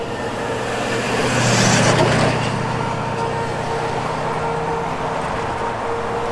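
Road traffic passes on a Tennessee roadside, with a vehicle's brakes giving a thin, sustained squeal over the steady rumble of engines and tyres, swelling briefly as it goes by.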